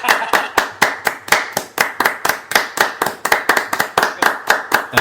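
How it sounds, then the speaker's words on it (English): Steady hand clapping, about four claps per second, loud and close, keeping up an even rhythm for the whole stretch like a short mock round of applause. "Applause break."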